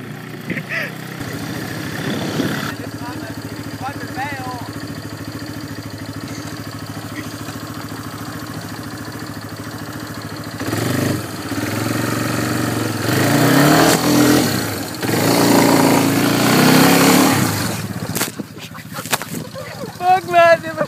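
Motocross bike engine idling steadily, then revving hard in loud bursts toward the end, with people talking and shouting over it outdoors.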